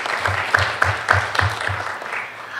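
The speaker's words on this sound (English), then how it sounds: "I'm going to ask that you hold your applause" Audience applause at an interfaith forum, a moderate burst of hand claps with a few sharper accents rising and then thinning out over a couple of seconds.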